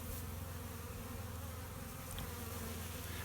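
Bees buzz inside a beehive with follower boards, a steady, dense drone of many insects close by that holds constant throughout.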